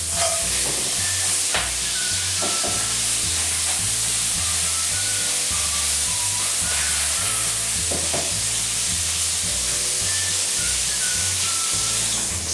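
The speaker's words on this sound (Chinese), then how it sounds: "热锅加入适量的花生油，把裹好生粉的螃蟹给放进锅里面" Starch-coated crab fries in hot peanut oil in a wok, giving a loud, continuous sizzle with occasional stirring clinks and a steady hissing bed throughout.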